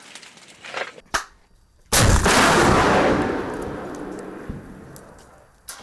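A shoulder-fired MANPADS missile launches with a sudden loud blast that rolls into a long, broad roar and fades over several seconds, preceded by a few sharp clicks and knocks, close by with no talk.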